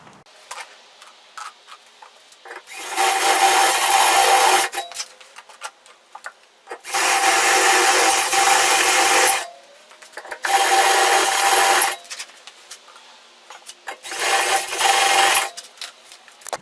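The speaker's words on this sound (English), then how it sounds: "Now I'm just going to use a step bit to widen them and make them a little bit oversized for what I need." A step drill bit widens drilled holes in metal, heard as four long, loud, harsh grinding runs of roughly two seconds each, with brief quiet gaps between them and no talking.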